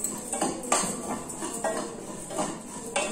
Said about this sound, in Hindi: ये मैं जवे भून रही हूँ